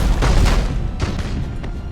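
Macro cannon fire and explosions from the space warship game Battlefleet Gothic: Armada form a dense, continuous rumble of booms and blasts, loud and unbroken, with no speech over it.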